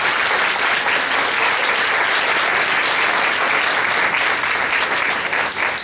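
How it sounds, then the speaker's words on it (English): A room full of audience members applauds children for their hard work on a gemstone project, a dense, steady wash of clapping that stays loud and even for several seconds with no voices over it. "let's give them a huge round of applause for all their hard work"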